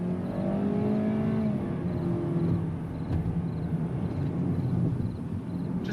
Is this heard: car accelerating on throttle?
yes